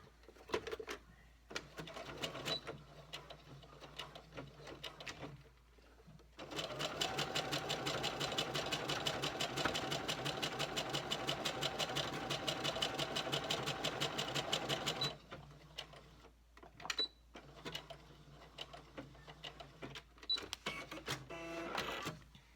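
A sewing machine stitches a thumb hole cuff, running in a steady, close hum and rattle for several seconds, with shorter bursts of stitching and handling noises on either side.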